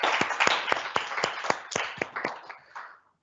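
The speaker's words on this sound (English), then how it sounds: "do give a round of applause to all the panelists who have taken part and all the students for asking" An audience at a college student question-time event applauds the panelists and students, a short burst of scattered clapping with a few louder nearby claps that tapers off and ends in silence.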